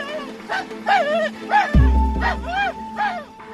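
A man imitates a dog, giving a series of rhythmic barks and yips beside a government official's stopped car, with a sustained engine or horn-like drone joining midway.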